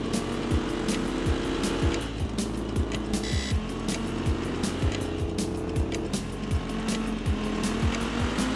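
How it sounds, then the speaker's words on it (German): A game car in LittleBigPlanet 3 drives along with a constant engine drone, punctuated by repeated short clunks and tire squeals, close and steady throughout. "Der ist wenigstens nicht so frontlastig, der Wagen."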